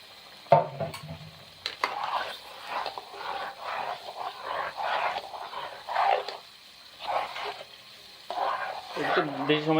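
Taro leaves fry and get stirred in spiced masala in a pan, giving bursts of sizzling and scraping that come and go, with a dog whimpering briefly near the end.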